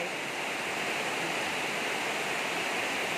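Heavy rain pouring down outdoors, a dense, steady hiss of close, constant downpour with no pauses.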